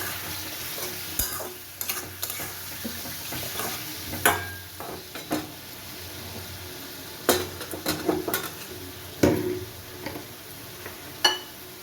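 Tomato frying for a fish and potato curry as salt and turmeric are stirred in: a continuous sizzle with repeated spatula scrapes and clinks against the pan, close and fairly loud, with no voices.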